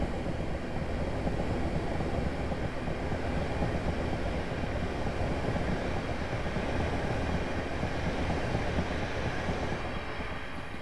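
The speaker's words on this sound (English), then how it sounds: "That train goes." A Class 375 electric train passes in the Train Simulator Classic game on a London to Ramsgate route, with a loud, unbroken rumble and rattle of wheels on track that holds steady throughout, with no speech.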